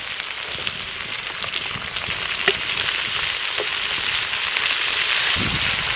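Vegetables for a Malabar spinach village dish hit hot oil in a frying pan, giving a loud, steady broadband sizzle that swells slightly toward the end, with a few faint clinks and no talking.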